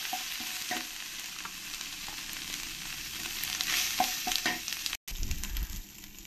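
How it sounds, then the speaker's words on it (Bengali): A gourd curry with cumin and coriander powder sizzles in a pan as it is stirred, giving a steady frying hiss with soft scraping and clinking strokes, then a brief gap before a louder scrape. "দিয়ে ভালো করে এবার একবার নেড়ে দেব।"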